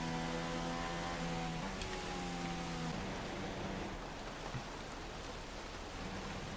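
Rain in the racing game F1 2016 at the Spanish circuit, a steady hiss of falling rain under a car engine's droning tone that fades after a few seconds, leaving the even rainfall alone.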